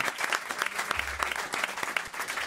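A studio audience bursts into lively applause, with quick, distinct claps close by and a brief low thump partway through.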